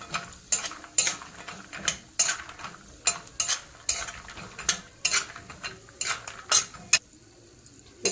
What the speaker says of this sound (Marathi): त्याच्यानंतर बदाम हे पण चांगले तुपामध्ये भाजून घ्यायचे